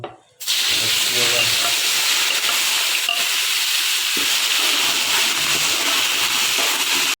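Onion, ginger and garlic dropped into hot oil with fenugreek and nigella seeds, bursting into a loud, steady sizzle right after a quiet start, close and continuous with a faint clink partway through.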